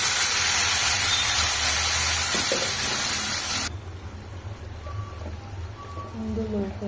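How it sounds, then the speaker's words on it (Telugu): Blended tomato paste poured into hot oil tempered with dried red chillies while making tomato chutney. A loud, broad hiss that drops abruptly partway through, leaving a quieter, steady sizzle with faint pops. "మిక్సీ పట్టుకున్న టమాటా పేస్ట్ అయితే వేసేసుకోవాలి."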